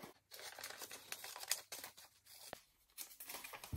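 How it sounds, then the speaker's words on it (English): Pages of a magazine crinkle and tear close up in quick irregular bursts while words are cut out of them by hand, with no talking. "I'm going to cut out these words"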